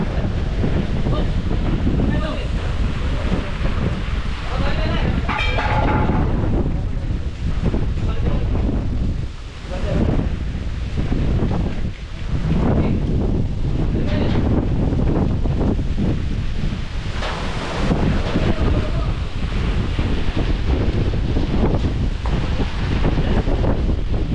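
Strong typhoon Uwan wind batters a farm with nailed-down huts, roaring as a loud, continuous gusting rush with heavy buffeting across the microphone throughout, steady and overwhelming with brief lulls.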